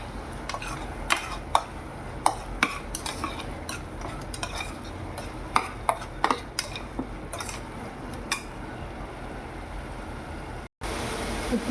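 A spoon scrapes and clinks repeatedly against a pan while ginger garlic paste is stirred into mutton curry, with scattered sharp metallic taps over a steady background hiss.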